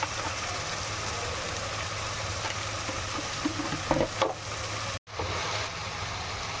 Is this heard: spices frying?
yes